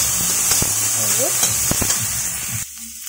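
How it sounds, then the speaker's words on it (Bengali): Loud, steady sizzling of boiled potatoes and carrots frying in hot oil, with scattered sharp pops and a spoon scraping; the sizzle cuts off abruptly near the end. "ভালো করে ভাজা ভাজা করে নিতে হবে।"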